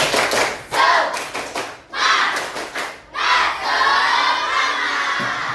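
Elementary schoolchildren in a class of 6B clap and shout together in a rhythmic tepuk semangat chant, with loud bursts of group clapping and voices separated by brief pauses, close and energetic.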